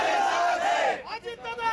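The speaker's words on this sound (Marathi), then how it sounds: "गुलाल उधळत अजितदादांच्या समर्थनार्थ घोषणाबाजी करत आपला आनंद व्यक्त करतात" A crowd of Ajit Pawar's party workers in Malegaon loudly chanting and cheering slogans in celebration while gulal is thrown, a dense roar of many voices close by, dipping briefly before swelling again.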